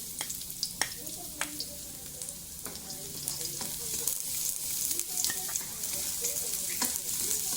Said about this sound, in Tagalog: Dahil mainit na po yung mantika, isunod na po nating ilagay yung bawang at sibuyas.